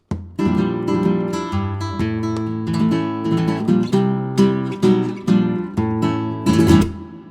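A flamenco guitar plays a tangos llamada in compás, with sharp strummed chords and rasgueado bursts in a driving, syncopated rhythm, close and solo with no voices.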